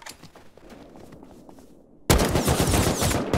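Bursts of automatic gunfire from a survival raiding video game hit loud and dense after a quieter stretch of distant shots, continuing rapidly to the end.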